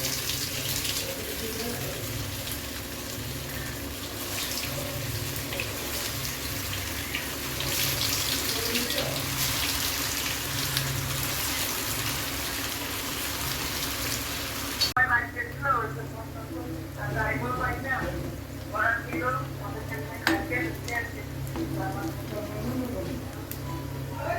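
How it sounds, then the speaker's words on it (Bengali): Potato chops (aloo chop) dropped into hot oil give a steady broadband hiss of frying that runs throughout, with a brief shift in tone partway through as a voice talks over it. "তেল গরম হয়ে গেছে, এখন তেলের মধ্যে ছেড়ে দেব"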